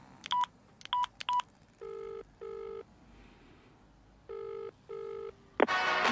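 Telephone keypad tones dialing a number: three short high beeps, then paired longer tones, a pause, two more long tones, ending in a burst of noise, quiet and clear.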